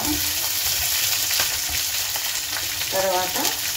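Mustard seeds, cumin and fenugreek with green chillies fry hard in hot oil for a dondakaya mango chutney, a loud, dense, continuous crackling sizzle close up with a faint stir partway through.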